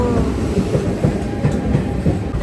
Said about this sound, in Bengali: এসছে উনচল্লিশের ট্রেন 50 না 52তে এসছে